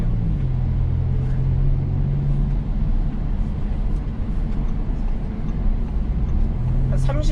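Cabin sound of an Audi A5 Sportback accelerating from low to medium speed on an open road, a steady muted engine and road rumble beneath a driver talking throughout.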